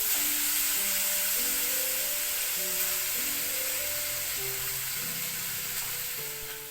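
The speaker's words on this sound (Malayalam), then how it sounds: "ഡീപ്പ് ഫ്രൈ അല്ല, ഷാലോ ഫ്രൈ ആണ് നമ്മൾ ചെയ്യണത്." Grated potato shallow-frying in oil for a veg burger, producing a steady, dense sizzle throughout, with a faint tonal hum underneath and no talking.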